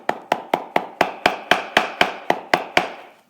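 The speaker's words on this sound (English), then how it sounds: "Hammer it down." A hammer tapping leather down at the toe of a pump shoe, about eleven evenly spaced, crisp close knocks in a steady rhythm with no voices.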